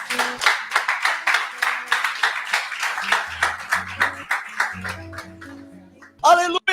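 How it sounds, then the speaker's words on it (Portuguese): Church congregation clapping in a steady rhythmic beat at a worship service, fairly loud and close, running for several seconds before fading under musical tones, with a brief burst at the end. "Dê um aplauso a Jesus aí."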